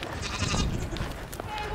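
A brief goat bleat rises over low rustling and background noise, close by.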